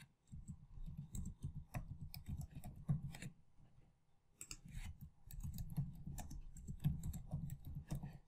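Rapid clicking keystrokes on a computer keyboard while an online form is filled in, close and alone, in quick irregular bursts with one short pause.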